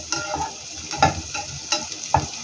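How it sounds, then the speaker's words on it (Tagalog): Dried small shrimp and galunggong fish sautéing in a pan, sizzling steadily with several scraping stirs at irregular intervals, close and moderately loud. "Gisa-gisa muna ng bahagya"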